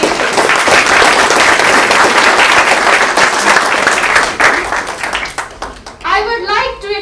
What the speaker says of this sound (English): I request audience to give a big clap of applause for the member of APSE.